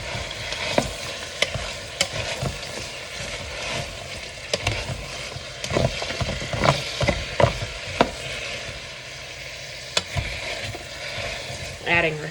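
Chopped onions sizzle and fry in melted butter and olive oil in a home kitchen, with a steady crackle broken by repeated clanks and scrapes as a utensil stirs the pan.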